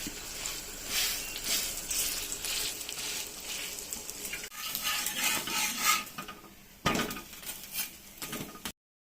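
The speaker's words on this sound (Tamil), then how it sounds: "நம்ம ரெடி பண்ணி வச்சுக்கிற மாவை இதுமாரி தோசைக்கல்லில் அடை தட்டிக்குங்க" Ragi adai dough pressed and patted by hand onto an oiled, hot dosa griddle, giving a steady frying sizzle with soft scraping and occasional clinks of utensils, close and continuous with no talk.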